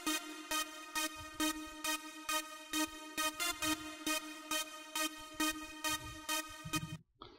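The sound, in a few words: lead synth from Massive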